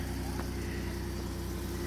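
A 2018 Ford F-150 engine idles after a remote start on an icy day, a steady low rhythmic hum close by, with no talk.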